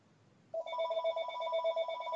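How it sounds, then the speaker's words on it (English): A cell phone rings after a short quiet stretch, its steady electronic tone sounding loud and close and continuing without a break. "Is it another cell phone?"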